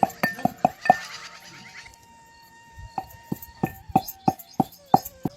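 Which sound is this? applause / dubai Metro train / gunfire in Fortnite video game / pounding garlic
pounding garlic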